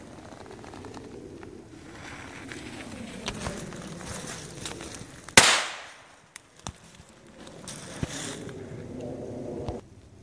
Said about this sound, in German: Pyrocracker Komet, Pagode Cover, Hersteller SQ, gestopft und geleimt.